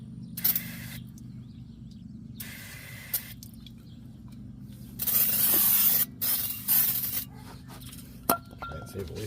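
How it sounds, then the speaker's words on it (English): Brake cleaner sprays onto the rear brakes of a 2002 Nissan Sentra in several short, sharp hissing bursts separated by quiet gaps, with a few light clinks of metal near the end. "spray my mess down with some brake cleaner"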